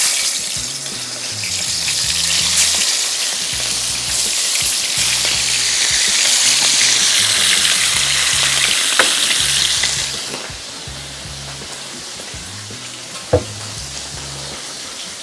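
Fish frying in hot oil in a home kitchen, a loud steady sizzle that fills the first ten seconds and then drops to a softer, continuous crackle, with a sharp clink near the end.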